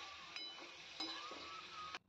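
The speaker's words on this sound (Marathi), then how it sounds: "तेलावर परतून घेऊया." Pieces of kaleji (liver) sauté in hot oil with garlic and curry leaves, giving a faint, steady sizzle broken by a few sharp clicks of a spoon against the pan.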